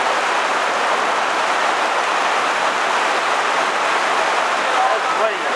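Heavy rain pours down in a steady, dense hiss that stays loud and constant throughout with no break.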